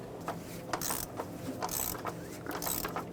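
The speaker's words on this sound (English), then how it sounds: "This one I can get a torque wrench on, so I will torque it." A torque wrench ratchets in quick repeated clicks while tightening the fuel filter cap on a 2008-2010 Ford F-250 with the 6.4L diesel, several bursts of close, crisp clicking with brief pauses between them.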